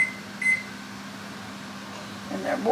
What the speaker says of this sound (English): the timer for the bell peppers is going off